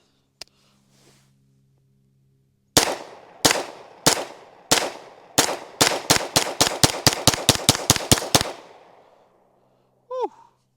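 Shots from a Staccato HD P4 pistol fired in a fast string of about fifteen loud, sharp cracks, widely spaced at first and then quickening into a rapid close-range volley, followed by a brief sigh.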